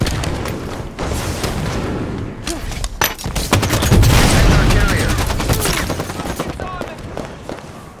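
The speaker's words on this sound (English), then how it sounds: "Grenade on the way!" A grenade explosion and rapid gunfire fill a Halo 5 capture-the-flag match on the Stasis arena map, with dense overlapping shots and a heavy boom, loud and close, under game voices and announcer talk.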